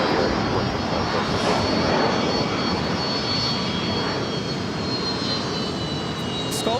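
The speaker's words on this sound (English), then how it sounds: "The 380 is now rolling." An Airbus A380 rolls for takeoff at LAX, its jet engines producing a loud, steady broadband roar that holds at full strength for the whole stretch, with faint voices underneath.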